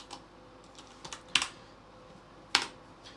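Computer keyboard keys clack in a few scattered taps, with two sharper louder strikes standing out, close and otherwise quiet.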